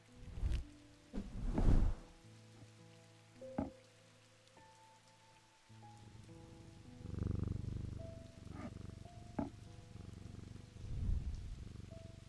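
A cat purrs in the video game Strange Antiquities, a soft, low, rumbling purr that swells and fades several times among sustained game music tones, with no talking.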